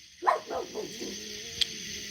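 A dog barks several times in a quick sequence of short yips near the microphone, the barks fading into a faint whimper, with a low steady background hum.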